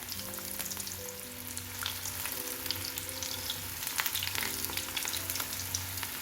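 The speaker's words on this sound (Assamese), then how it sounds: "এইখিনি মই প্ৰথমে তেলত দি দিওঁ তেলটো ল' ফ্লেমত দিছোঁ এটা এটাকৈ দি দিওঁ ধুনীয়াকৈ ভাজি হ'ব দিব" Gobi manchurian cauliflower balls fry in oil over a low flame, giving a steady, close sizzle with soft crackles and occasional stirring.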